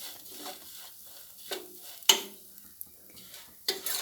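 Banana pieces frying in ghee in a pan, a quiet, low sizzle broken by a few sharp scrapes and clinks of a spoon stirring against the pan, with brief louder strokes spaced irregularly.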